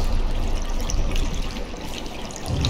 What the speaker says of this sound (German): Wasser geht wieder runter.